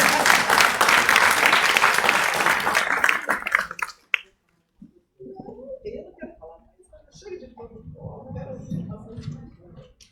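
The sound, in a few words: audience applause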